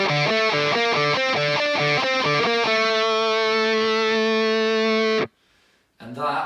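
Electric guitar run through effects pedals plays a synth-style lead line as part of a cover, choppy repeated notes at first that settle into a long ringing held note, then stop suddenly into a short silence.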